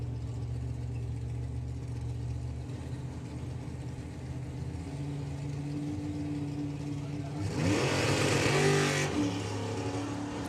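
A Camaro drag racing car at a drag strip, its engine droning steadily at a distance before a loud, rough surge of acceleration swells for a couple of seconds and then fades.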